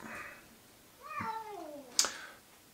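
A cat gives a drawn-out, sliding meow, followed by a sharp short squeak, alone against quiet room tone.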